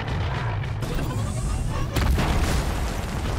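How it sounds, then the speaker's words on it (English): A loud, deep explosion boom in Horizon Zero Dawn, rumbling over steady game noise with a second heavier burst partway through. "Cool people don't look at explosions."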